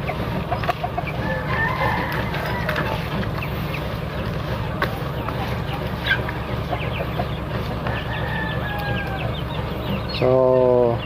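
Rhode Island Red and native chickens cluck and call busily around feeding time on mulberry leaves, a dense close flock chorus over a constant low background rumble, with a louder, drawn-out call near the end.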